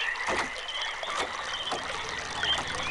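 Water flowing through a channel in the video game realMYST, a steady rushing wash with soft splashy gurgles running throughout, fairly close and continuous with no talking.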